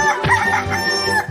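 Chicken clucking with a rooster crowing in a cartoon scene at a fountain, a series of loud, close, throaty calls in quick succession.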